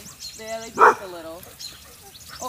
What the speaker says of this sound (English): Yeah, they bark a little.